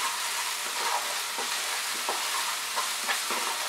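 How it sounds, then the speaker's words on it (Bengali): Chicken fries in a pan with ginger garlic paste, a steady close sizzle with intermittent stirring scrapes and clinks, moderately quiet and with no talking. "আদা রসুন বাটা দিয়ে আমি আরো 1 মিনিট এটাকে ফ্রাই করব।"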